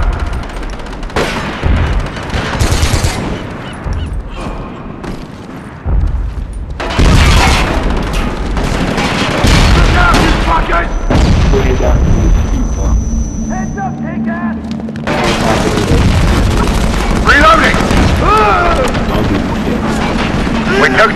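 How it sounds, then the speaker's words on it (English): Grenade blast in a SOCOM bomb-squad match at Port Authority: loud booms and bursts of gunfire come in waves over about twenty seconds, mixed with players talking throughout. "Grenade out!"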